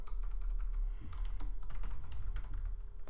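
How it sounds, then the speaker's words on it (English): Steady, fairly close typing on a computer keyboard while entering git commands, a continuous run of soft key clicks with no talking. "We type git commit -m, adding new file."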